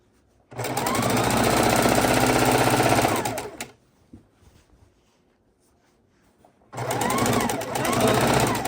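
A sewing machine stitches quilt pieces together with tight seams: a loud, steady mechanical whir runs for about three seconds, stops for a quiet gap with a few faint clicks, then starts up again and runs to the end.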